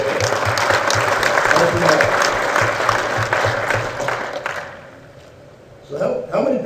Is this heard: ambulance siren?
no